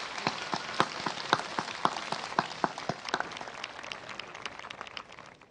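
An audience at a Class of 2022 graduation ceremony applauds the graduates' families, dense clapping with sharper claps standing out early and then fading gradually toward the end.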